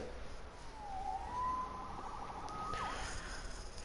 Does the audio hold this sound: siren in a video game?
yes